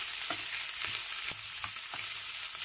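Chicken fries lightly in a spoonful of oil, a soft steady sizzle broken by several rhythmic scraping stirs of a spatula against the pan, with no voices.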